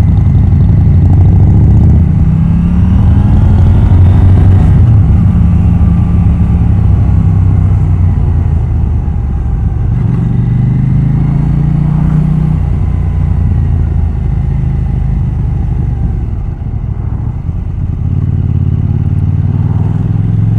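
A KTM 790 Duke motorcycle rides through traffic, filtering between cars, its engine a loud, close, continuous drone with shifting revs and surging throttle rises over steady wind rush.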